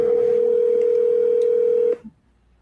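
A telephone call ringing out: a steady, loud ringback tone holds for about two seconds, then cuts off abruptly, leaving near silence with a brief faint blip.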